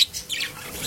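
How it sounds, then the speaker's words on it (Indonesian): Small cage birds in a colony cage, budgerigars, canaries, zebra finches and doves, give a quick burst of high chirps and tweets, close and fairly loud, over a short moment. "Seperti di sini ada parkit, ada kenari, lalu ada zebra finch juga, dan juga itu ada burung perkutut di sini."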